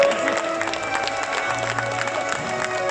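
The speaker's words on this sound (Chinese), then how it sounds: "掌声谢谢我们的毕业生" A hall full of people applauds the graduates at the Ci Ai 2019 tea ceremony, with steady, moderately loud clapping and a murmuring crowd running through the whole stretch, plus a faint sustained tone underneath.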